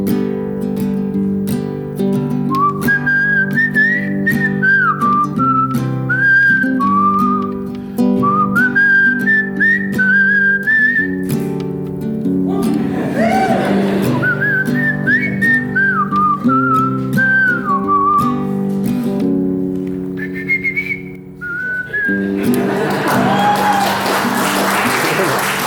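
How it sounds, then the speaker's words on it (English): A performer whistles a bright, wavering melody on stage in a live theatre, over sustained instrumental accompaniment, with audience clapping and cheering bursting in partway and at the end. "That will be the only whistling I'm doing"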